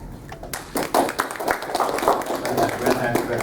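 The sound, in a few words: applause for a conference speaker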